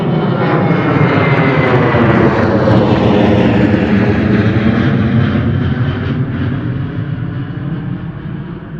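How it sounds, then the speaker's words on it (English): A Norwegian Boeing 737 jet departs directly overhead at London Gatwick Airport, a loud, sustained roar of engines that stays strong and then slowly eases toward the end. "Got a Norwegian 737 departing directly overhead at the moment."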